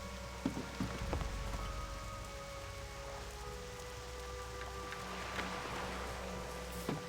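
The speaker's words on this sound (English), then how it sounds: "Yeah, it's a rainy day in Aberdeen." Steady rain falls on a rainy day in Aberdeen in World of Warcraft Classic Season of Mastery. The patter is soft and continuous, with occasional louder drops and no talk.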